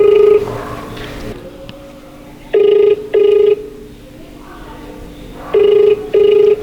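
A phone rings back on an outgoing video call, sounding in two pairs of loud electronic tones separated by a longer gap, close and clear over faint background noise.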